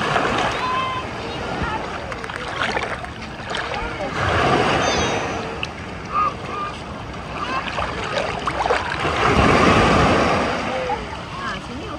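Ocean waves surge and crash repeatedly on a beach in Penang, loud and close, with wind and people talking intermittently over the surf.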